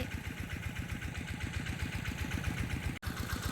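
An engine-driven water pump left running to drain a rice field chugs steadily with an even rhythmic pulse, close and continuous.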